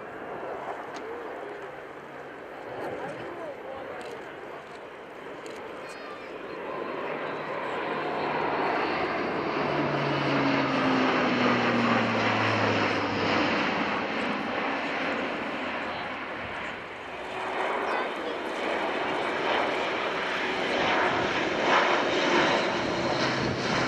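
Airbus Defence and Space military transport aircraft turning right just after takeoff at a 2015 airshow, a loud sustained engine and propeller roar that swells and stays strong, with faint distant voices underneath.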